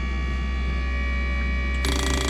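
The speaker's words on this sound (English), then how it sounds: "So this is testing the injectors at 1666 RPM at that duty cycle over 30 seconds." A fuel injector flow tester runs at a steady 1666 RPM, giving a continuous close mechanical whir and hum with fine ticking pulses, shifting to a brighter, busier clatter near the end.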